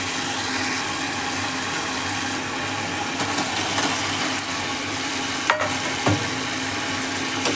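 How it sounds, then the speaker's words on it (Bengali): Boiled potatoes being stirred into spice masala frying in a pan for a Bengali egg and potato curry, a steady sizzle with scraping stirring and a couple of sharp utensil knocks near the end. "আলুগুলো দিয়ে আমি নেড়ে চেড়ে মিশিয়ে নেব মশলার সাথে।"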